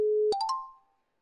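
A telephone ringing tone: a steady mid-pitched tone, then a quick three-step rising chime whose last note rings out and fades within about a second, clean and close with no voices.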